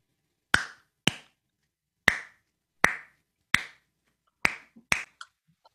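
Sharp hollow hand pops, about seven in an uneven sequence, close and percussive, their pitch shifting slightly from one pop to the next.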